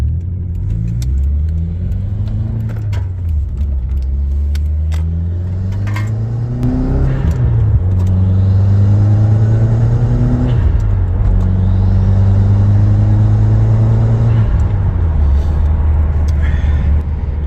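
Engine of a Subaru WRX with a light top-end misfire, heard from inside while driving: a steady loud drone rising in pitch with acceleration, falling at shifts, then climbing again, continuous throughout.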